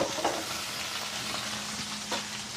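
Sausage fries in a pan with a soft, even sizzle and occasional faint clinks, quiet and steady with no talking.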